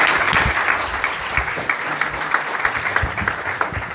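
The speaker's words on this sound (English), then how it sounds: "please an applause for Cristina" Steady, dense applause from an audience at an academic year inauguration ceremony, loud and continuous throughout with no talking over it.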